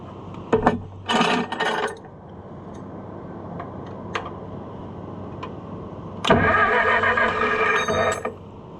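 A Case tractor's starter cranks in a few loud whirring bursts without the engine catching, with long quiet gaps and faint clicks between attempts.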